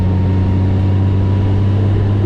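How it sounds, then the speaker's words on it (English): A six-cylinder car engine works hard climbing a winding hill road, a loud, steady low drone with a strong sustained hum held at a near-constant pitch throughout. "it is good to work the engine a little bit. Let all 6 cylinders flex their muscles for a while"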